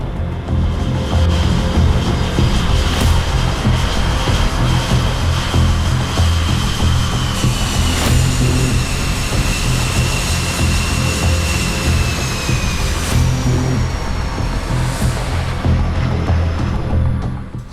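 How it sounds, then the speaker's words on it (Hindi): F-35C Lightning and F/A-18 Super Hornet fighter jets take off from an aircraft carrier deck, giving a loud, sustained jet roar with rising whines and a few sharp bursts over a constant rumble, and no voices. "यहाँ से दुनिया की सबसे हाईटेक F-35C, लाइटनिंग और FA-18 सुपर हॉर्नेट पलक झपकते ही उड़ान भरते हैं।"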